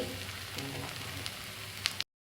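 Adai dosa, a lentil pancake made with wheat or ragi flour, frying on a hot pan with a soft, steady sizzle close by, a few faint scrapes near the end, then a sudden cutoff to silence.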